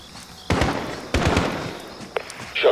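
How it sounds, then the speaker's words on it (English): Two sharp, loud gunshots ring out close by in Call of Duty: Modern Warfare during a night mission, each with a long decaying tail, followed by a softer click and a brief metallic rattle. "Shot fired."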